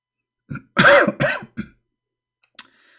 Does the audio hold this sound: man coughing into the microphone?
yes